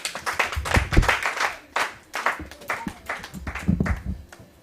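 A church congregation claps for the Lord during a service, with rhythmic handclaps rising and falling in waves and a few faint voices beneath.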